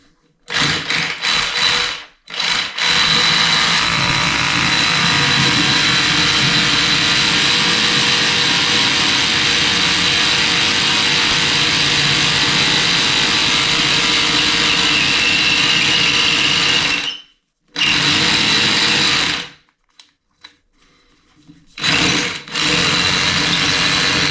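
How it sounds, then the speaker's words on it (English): A heavy STS power drill fitted with a masonry bit runs in long, loud sustained bursts, cutting out briefly a few times before starting again, with no talking. "This is an STS drill. It's just a bit heavier for doing heavier jobs. And of course, I've got a masonry drill bit in."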